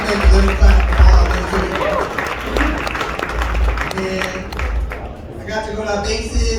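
Comedy club audience claps and cheers for military members in the crowd at a live stand-up show, a dense, loud burst of applause with crowd murmur that holds steady and slowly thins.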